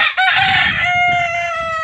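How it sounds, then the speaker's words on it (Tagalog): A rooster crows loudly and close, one long drawn-out call with clucking chickens underneath. "marami ditong manok yan"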